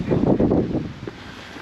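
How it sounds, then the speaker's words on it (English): Wind gusts on the coast in Portals Nous, Mallorca, a low buffeting rumble against the microphone that swells early and then eases to a steadier hiss. "The wind's picking up again."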